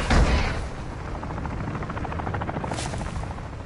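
Helicopter rotor thumping from across the map in the video game Call of Duty: Warzone, a steady mid-distance drone following a heavy boom at the start, with a brief burst of noise near the end.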